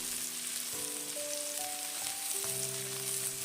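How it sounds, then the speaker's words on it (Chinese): Chopped scallions hit hot cooking oil in a wok, giving a steady, close, continuous sizzle and crackle throughout, with a soft background musical tone. "油热之后放入切好的葱花"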